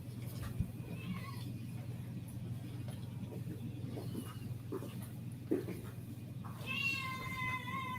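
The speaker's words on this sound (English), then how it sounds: "that cat is telling me in no uncertain terms that food is owed and due" A hungry cat meows insistently for food, a few faint, drawn-out cries over a low steady background hum, the loudest call near the end.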